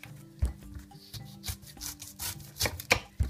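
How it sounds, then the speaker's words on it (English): Knife slicing the top and bottom off a pineapple on a board, heard as a series of rough rasping cuts and dull thumps, close and fairly quiet, with faint background hum. "to prepare our pineapple, we'll just cut the top and the bottom off it"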